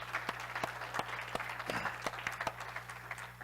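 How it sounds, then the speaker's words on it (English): Staff at an all-staff meeting give a round of applause: scattered, fairly quiet clapping in a room with a low steady hum underneath. "I would like to give everybody a round of applause"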